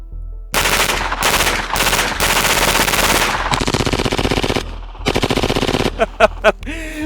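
Submachine gun in the Battlefield 6 video game firing several loud, sustained automatic bursts back to back, followed by a few short sharp single shots near the end.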